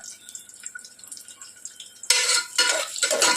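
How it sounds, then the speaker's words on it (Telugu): Onions frying in oil with bay leaf, cardamom and spices for a mutton dish, starting as a faint quiet sizzle, then a loud bright crackling hiss bursting in partway through with stirring scrapes. "ఇప్పుడు వీటిని ఫ్రై చేసుకోవాలండి. సగం వరకు ఫ్రై చేసుకోవాలి."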